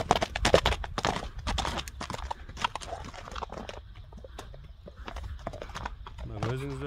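A horse for sale runs past with rapid, loud clip-clopping hoofbeats that gradually ease off, while people talk over the hooves throughout.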